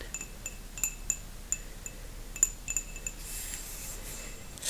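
Light, bright clinks of a ceramic teacup being tapped, a series of sharp ringing taps spaced irregularly, close and soft in a quiet room.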